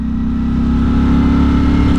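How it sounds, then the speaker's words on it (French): A 2022 Ducati Streetfighter V4S motorcycle engine rumbles steadily and loudly up close, a deep continuous drone with no break and no voices. "la sonorité vraiment elle est ultra présente en bas là, ça gronde"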